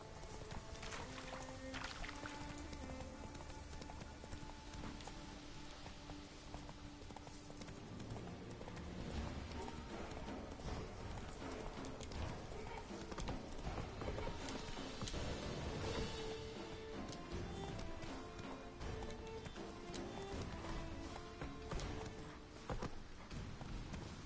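A horse in The Witcher 3: Wild Hunt gallops with a steady, fast clip-clop of hooves that carries on throughout under faint game ambience.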